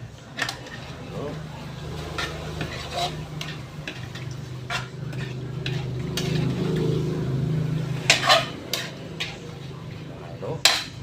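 A spoon clatters and scrapes in a pan as pork steak is stirred in sauce, with intermittent metallic knocks over a low, steady cooking hum.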